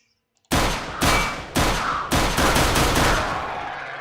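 A gun fires in a Minecraft mod, four or five loud booming shots in quick succession after a moment of silence, each followed by a ringing decay that overlaps the next.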